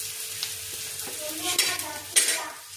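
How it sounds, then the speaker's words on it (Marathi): Onion and green chilli sautéing on a flat iron tava as radish-leaf bhaji is cooked, a steady close sizzle with scraping stirs and a few sharper clinks of the spatula. "पण मिरची कांदा आहे ना परतून घेते"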